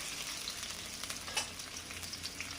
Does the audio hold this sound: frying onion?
yes